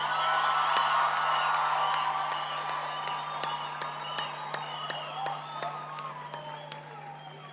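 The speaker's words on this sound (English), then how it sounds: "Can we give our graduates another round of applause, please?" A graduation ceremony audience applauds its graduates with steady, full clapping, a few whoops and cheers mixed in, holding strong then easing slightly while a low hum runs underneath.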